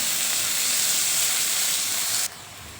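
Onion fries in oil until golden for a soybean curry, making a dense, even hiss of sizzling that cuts down suddenly just before the end.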